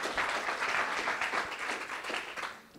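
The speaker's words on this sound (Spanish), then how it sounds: "Give that big applause." A church congregation at a revival service applauds warmly, a dense, sustained roar of many hands clapping at close range that eases slightly toward the end.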